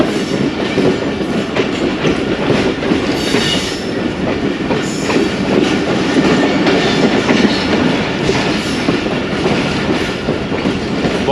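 Pakistan's 39UP Jaffar Express running on a single-line track between Lahore and Lala Musa Junction, a loud, steady rumble of rolling wagons with rhythmic clickety-clack of wheels over rail joints throughout, no talking.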